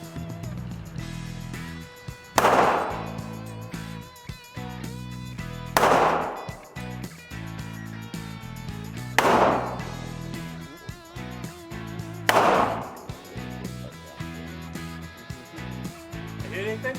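Outdoor target shooting, four sharp gunshots spaced a few seconds apart, loud and close, ringing over a steady hum of background noise with no talk between them.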